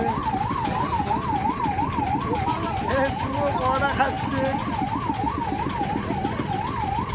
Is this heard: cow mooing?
no